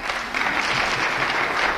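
A crowd claps for members of parliament being introduced at a meeting between the ODM leader and the Mt. Kenya business community, producing steady, moderately loud applause that carries evenly through the short stretch.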